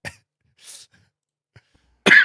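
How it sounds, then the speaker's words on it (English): A single sharp cough bursts out close and loud near the end, after a few faint small breaths and rustles in near silence. "I just unblocked and coughed."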